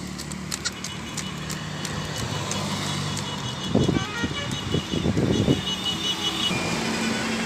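A road vehicle approaches outdoors, its engine a steady hum that grows into a rough, louder rumble midway, with brief horn-like tones above the noise and no clear speech.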